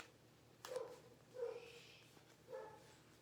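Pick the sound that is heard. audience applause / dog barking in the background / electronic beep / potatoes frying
dog barking in the background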